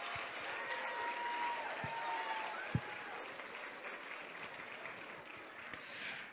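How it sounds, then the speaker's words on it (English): Parents and family at an elementary school's fifth grade celebration clap for the graduating class, a fairly faint, steady spread of applause in a hall with a few sharper claps standing out. "Let's give a big round of applause to class of"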